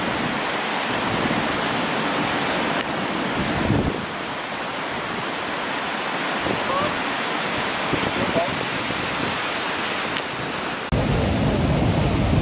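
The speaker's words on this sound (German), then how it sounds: "Da hinten ist der schöne Wasserfall, den wir schon im Sommer hatten." A waterfall in Ticino roars as a steady, dense wash of rushing water that fills the whole clip, loud and constant, with wind buffeting the microphone.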